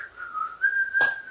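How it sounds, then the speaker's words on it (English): A person whistles one steady, clear tone for about a second, pitch drifting slightly, with a brief breathy burst near the end. "I'm whistling"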